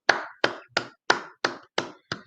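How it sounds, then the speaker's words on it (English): Seven sharp, evenly spaced hand claps or snaps ring out alone, close and crisp, each with a short decay, cheering on a young man named Prince Ewosa during a random acts of kindness event. "Clap for that."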